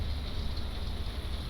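Low, steady engine rumble from a modular engine on a realistic offshore supply vessel in Stormworks, droning continuously with broadband noise on top and no speech over it.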